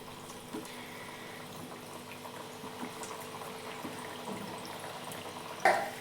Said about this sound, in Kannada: ಎಣ್ಣೆ ಬಿಸಿ ಇಟ್ಕೊಂಡಿದ್ದೆ, ಎಣ್ಣೆ ಕಾದಿದೆ. ಇವಾಗ ನಾವು ಒಂದೊಂದೇ ಹಾಕೊತಾ ಇದ್ದೀನಿ.